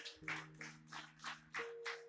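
A church congregation claps in a quick, steady rhythm, about seven soft beats over a low sustained organ-like tone, faint and somewhat distant.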